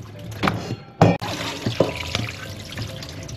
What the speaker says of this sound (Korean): 흐르는 물에 한 번만 이렇게 헹궈 주시고